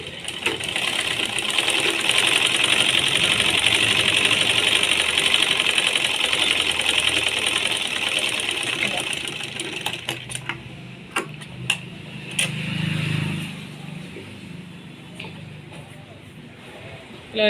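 A sewing machine stitches a dabba neck design on a garment, a steady close whirring for about ten seconds that stops and gives way to scattered clicks and handling noises.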